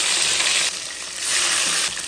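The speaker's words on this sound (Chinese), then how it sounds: "再次加入地沟油。 咱们把坤坤肉搞里头，" Meat dropped into hot oil in a wok sizzles loudly and steadily, dipping briefly in the middle before the hiss surges back up.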